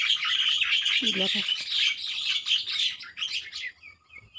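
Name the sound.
birds chirping in the garden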